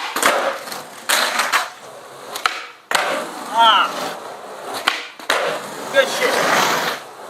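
Skateboard tricks landed in Emerica Dickson shoes: wheels roll in bursts, broken by several sharp board snaps and landing clacks, with a short spoken exclamation partway through.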